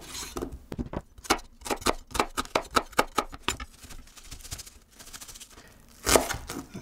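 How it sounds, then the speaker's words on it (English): Onions being chopped with a knife on a cutting board at home, a quick steady run of crisp rhythmic taps up close, then a pause and a few more cuts. "This is my way how I cut the onions every time."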